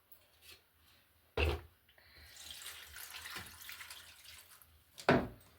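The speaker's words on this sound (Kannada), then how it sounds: "ನೀರು ಹಾಕೋಣ" Water splashes and pours into a cooking pot of greens in short bursts, with two sharp clanks of metal and a steady trickling stream between them.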